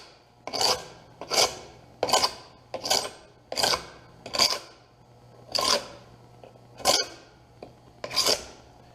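Dried glue being scraped off smooth wood pieces for a cutting board, nine evenly spaced rasping strokes, each a short loud scrape repeating about once a second, close up with no talk.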